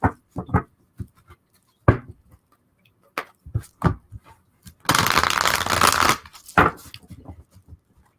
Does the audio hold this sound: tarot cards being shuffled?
yes